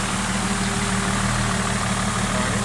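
An old Mercedes-Benz car engine idles steadily nearby, a constant low rumble with an even, throbbing pulse and no voices over it.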